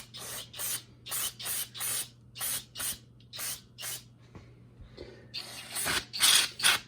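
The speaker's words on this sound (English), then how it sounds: "We're gonna spray off the rotor with brake cleaner as well before we slide this back on." Brake cleaner sprayed from an aerosol can onto the front brake rotor of a Polaris Ranger: about ten short, close hissing bursts in a steady rhythm, then a longer, louder spray at the end.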